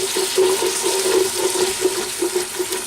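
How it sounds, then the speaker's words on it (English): Chicken stock being poured into a pan of dark gumbo, a steady splashing, bubbling rush of liquid with close, continuous loudness throughout. "Time to add our first bit of stock."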